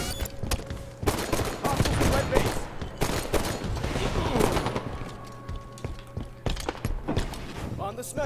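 Gunfire in the Halo 5: Guardians arena multiplayer game, with repeated sharp shots and bursts spread across the stretch amid other game noise, while a player talks over it.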